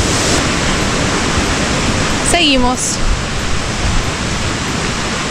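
A river pours out from a waterfall in the Huilo Huilo biological reserve in Chile, a steady, loud broadband rush filling the whole stretch, with a brief spoken word and a short chirp partway through.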